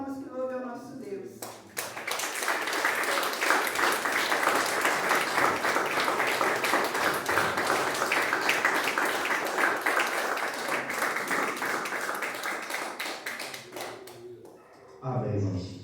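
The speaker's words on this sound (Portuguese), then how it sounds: "e as palmas que louvem ao nosso Deus" Church congregation applauding during a service: sustained, dense clapping swells in after a brief spoken line and continues steadily for about twelve seconds before fading, with a voice resuming at the end.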